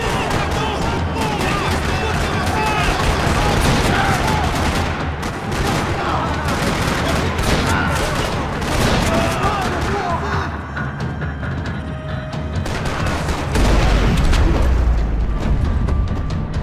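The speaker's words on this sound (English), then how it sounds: "Another parking lot rattling with gunfire." Gunfire rattles through a parking lot in the Max Payne 3 video game, dense bursts of shots and booms layered under game sounds, continuing without pause before a deeper rumble near the end.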